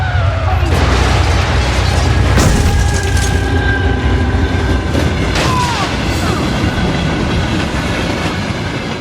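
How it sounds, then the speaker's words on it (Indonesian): An MRT train in an action movie runs off its rails and plows into housing blocks, a loud continuous roar of rumbling, clattering wheels and grinding metal with heavy booming impacts throughout. "MRT meluncur turun ke bawah, keluar dari rel, dan menciptakan kehancuran dahsyat di sekitar blok perumahan."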